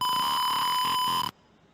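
A gas sensor alarm buzzer gives a shrill, steady electronic beep for just over a second, then cuts off abruptly into near silence.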